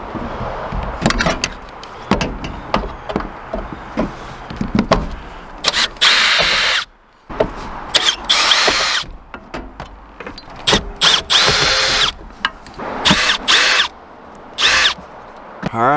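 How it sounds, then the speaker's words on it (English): A power drill backs screws out of an old Coleman air conditioning unit in repeated whirring bursts of varying length, loud and close, with short pauses and some clattering handling noise between runs. "let me get the rest of the screws out of this"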